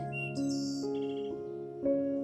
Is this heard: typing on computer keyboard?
no